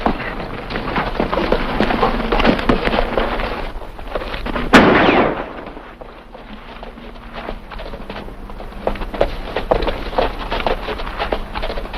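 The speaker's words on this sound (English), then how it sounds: "What's all this shooting for?" In a 1950 western film, a single loud gunshot bursts out amid a busy, clattering soundtrack of hoofbeats or footsteps, with a brief rumbling echo afterward and scuffling noise continuing.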